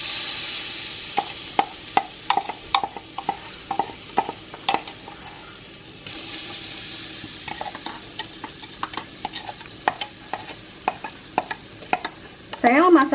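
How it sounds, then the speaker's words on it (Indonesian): Ground spice paste for rawon dropped into hot oil and fried, loud close sizzling under repeated sharp scrapes and stirs of a spatula against the pan, with no talking. "setelah minyaknya panas, kita masukkan bumbu yang sudah kita haluskan tadi ya"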